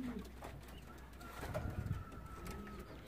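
Racing pigeons coo softly and repeatedly outdoors after a hawk attack, with faint rustling, a brief distant tonal sound and low background noise.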